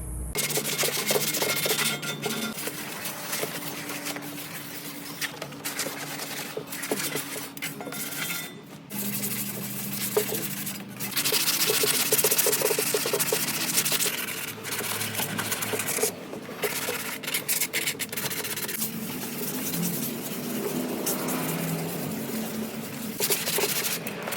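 Welds on a steel GenRight front bumper for a Jeep TJ are sanded down with a power sander, giving a continuous rough abrasive grinding that shifts in pitch and pressure, with brief stops and clanks of the metal.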